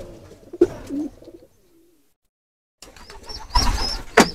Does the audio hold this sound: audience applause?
no